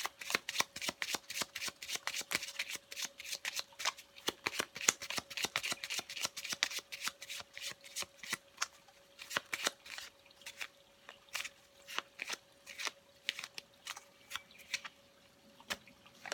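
Tarot cards being shuffled by hand in close, crisp bursts of riffling snaps, repeated in quick rhythmic runs with short pauses, alone in a quiet room.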